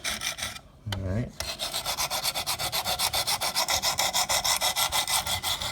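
Knife sharpening on a Wicked Edge sharpener with up-and-down strokes for a toothy edge: close, rhythmic raspy rubbing strokes in a fast, steady repeated pattern after a brief pause near the start.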